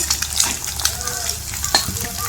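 Egg and potato frying in a pan, a close, continuous sizzle with faint stirring scrapes.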